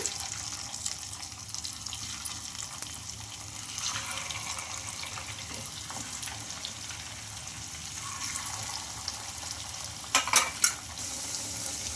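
Fritters made from leftover idli batter fry in oil with a soft, steady bubbling sizzle, close but fairly quiet, and a brief clatter near the end.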